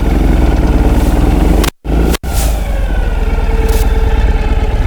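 A 2013 Ural Adventure Patrol sidecar motorcycle engine runs loud and close, idling and pulling steadily through a three-point turn with hand-shifted downshifts into reverse; the throbbing drone cuts out briefly twice during the gear changes.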